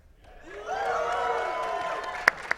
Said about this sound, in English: Cheer for the games you love, people.